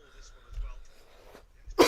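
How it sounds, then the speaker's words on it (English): A single sharp cough bursts out near the end after quieter rustling and faint background sound, close and abrupt. "Got a bad cough as well"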